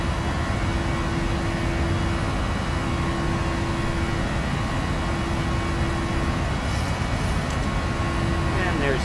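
A simulated airliner climbs after takeoff in the Prepar3d flight simulator, giving a steady, loud engine drone with broad rushing noise and a faint tonal hum, constant throughout.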